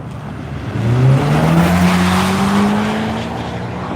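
A Hyundai Ioniq 5N race car sweeps through a chicane on a track, a loud, steady electric drive whine rising in pitch with faint tire scrub, close and sustained.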